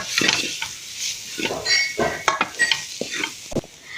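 Chicken fried rice is stirred and mixed in a pan, with irregular scrapes and metallic clinks of the spatula over a light sizzle, close and fairly loud.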